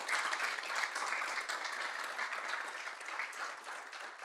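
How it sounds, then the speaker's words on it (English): An audience at a ceremony honoring a new chair holder gives sustained, even applause, a dense wash of clapping at moderate loudness that fades a little toward the close. "So please join me in a round of applause for this new chair."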